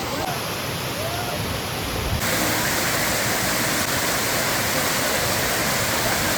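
A powerful waterfall at Lohagad Fort gives off a dense, continuous roar of falling water, loud and close, filling the whole stretch without a break.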